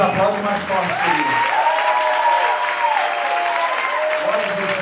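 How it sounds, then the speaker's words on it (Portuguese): A church camp congregation claps together, a continuous wash of hands under a preacher's loud amplified voice and music that run over the top. "aplaude mais forte"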